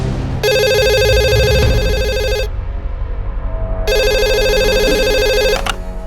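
A telephone rings in an office of a surgical instruments business, two long electronic trilling bursts separated by a short pause, loud and close with no talking.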